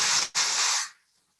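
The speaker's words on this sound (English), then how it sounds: "So I'm going to spray this one." Frost point spray aerosol discharged onto a glass surface: two short hissing bursts, a brief blast then a longer sustained spray with a tiny gap between, close and loud, fading into silence.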